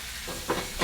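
Lemongrass and fresh ginger sizzling in a heated pan in a firehouse kitchen, a brief close hiss with a couple of stirring bursts over under a second.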